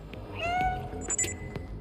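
A cat meowing in the video game Stray, one clear rising and falling meow followed by brief chirpy game sounds over a low background hum, close with no talk.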